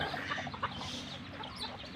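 Chickens and ducks cluck, squawk and call in a busy, continuous chorus close by in a backyard, over a steady outdoor background.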